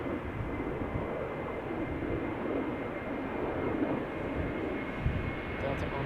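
Steady broadband jet roar of a Delta airliner moving at Schiphol Airport, continuous and fairly distant, holding an even level throughout with no voices.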